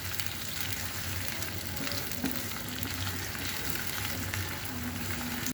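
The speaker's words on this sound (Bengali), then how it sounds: "এটাকে একটু ভেজে নিচ্ছি।" Onions frying in oil in a pan, with a steady, close sizzle running throughout and no talk over it.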